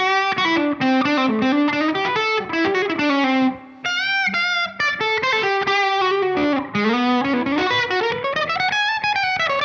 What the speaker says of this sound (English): Let's now engage reverb.